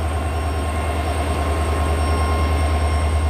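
A passenger train hauled by a diesel locomotive runs at speed between Malda and Balurghat on the Eastern Railway, giving a continuous, loud, deep rumble with a steady high whine and no voices.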